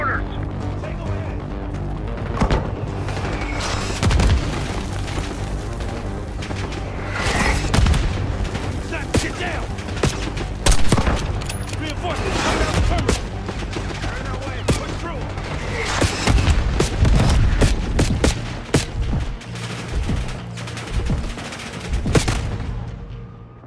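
Mortar blasts and gunfire fill a Call of Duty: Black Ops 6 battle as dense, continuous rifle bursts mix with deep booming impacts. Shouted voices come through the din.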